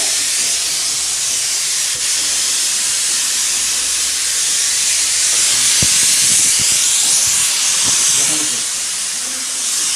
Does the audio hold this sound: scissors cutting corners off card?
no